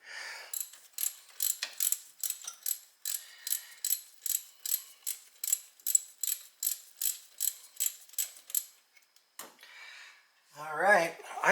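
A hand ratchet clicks in a quick repeated series of bursts while loosening the serpentine belt tensioner on a 2003 Mitsubishi Galant 2.4L 16V, close up, followed by a brief pause and a short voice at the end.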